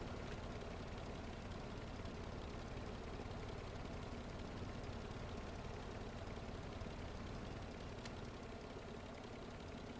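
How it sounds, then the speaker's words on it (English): Helicopter engine idling in the video game Stormworks, a steady, dense low rumble that drones evenly and fairly loud throughout, with no talk over it. "You throttle down. Engine will throttle down."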